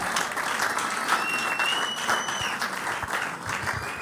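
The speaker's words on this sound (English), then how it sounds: "Please, let's give them a round of applause." Sustained audience applause fills a fertility conference hall, a dense steady clatter of many hands clapping at close range for the full stretch without pause.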